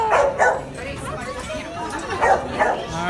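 A young puppy gives four sharp, high yips in two quick pairs, one pair at the start and another near the end, close by over a low background of faint voices.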